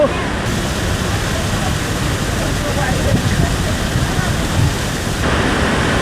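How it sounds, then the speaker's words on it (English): A powerful waterfall in Baños, Ecuador roars as a constant loud broadband rush, filling the whole clip with steady pounding water noise and no clear voices above it. "The waterfall is so powerful."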